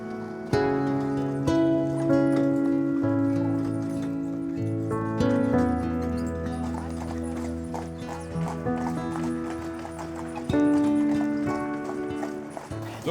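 Lipizzaner horses pulling a carriage clip-clop steadily at the Lipica stud farm, their hoofbeats partly buried under continuous loud music with sustained tones.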